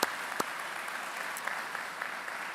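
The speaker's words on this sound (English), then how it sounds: "So I just want to say thank you with a round of applause." A conference audience offers a soft, distant round of applause, a low steady patter of clapping with a couple of sharper claps near the start.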